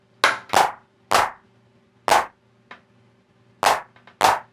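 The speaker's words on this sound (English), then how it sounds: "by messing with delay times, I can get some really cool dubbed out clap sounds" Arturia DrumBrute clap run through a short delay pedal, giving a series of loud, sharp, slightly doubled claps in an uneven rhythm, about seven hits with one softer echo, alone and dry-sounding.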